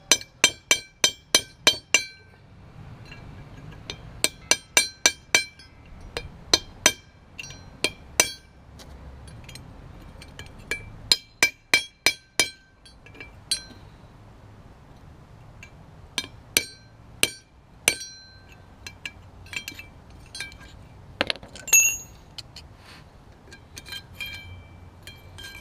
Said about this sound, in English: I'm going to hit that with a hammer and chisel and see what happens